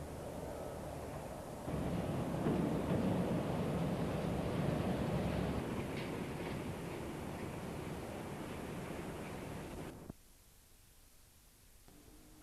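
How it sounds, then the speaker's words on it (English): A Class 60 locomotive hauling a train of empty iron ore bogie wagons at the Port of Immingham gives a steady, broad rumble for about eight seconds, then falls away to a quieter background hush. "a train of empty iron ore bogie wagons"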